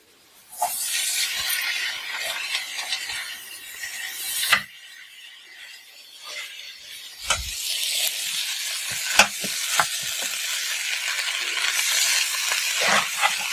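Kothu roti being chopped on a hot griddle with green chilli, curry leaves and salt: steady sizzling frying noise broken by sharp, irregular metal blade strikes, some loud and close, with no talking.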